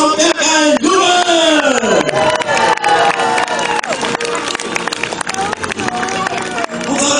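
A medieval festival tournament crowd in Riegersburg roars with cheers, whoops and applause, loud and sustained for the whole stretch, with shouted voices mixed in.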